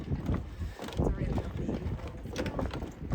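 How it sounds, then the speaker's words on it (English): Gusty wind buffets the microphone at a Spanish marina, a steady low roar rising and falling throughout with no clear voices. "it's a bit windy here"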